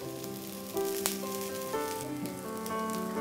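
Steady sizzle of potato rolls cooking in a little oil on a pan, a dense crackling hiss that carries on unbroken with a few louder spits.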